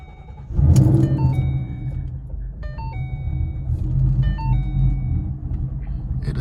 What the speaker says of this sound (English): The drive with this new 67mm throttle body is complete.